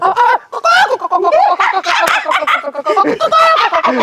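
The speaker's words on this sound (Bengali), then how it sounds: "আমার মুরগির ডাকটা শুনলে আমার বেশি আনন্দ লাগে" A flock of chickens calls out in loud, overlapping clucks and squawks, continuous and close by, with no pause throughout.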